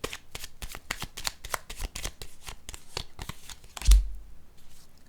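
Tarot cards shuffled by hand in a quick run of crisp riffling flicks, close and steady, ending with a soft thump as the deck settles.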